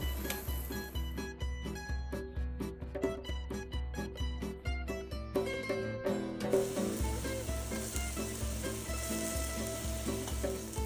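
Banana pancakes fry in a hot pan in batches, a soft sizzle that grows steadier in the second half, heard under rhythmic background music with a thumping beat.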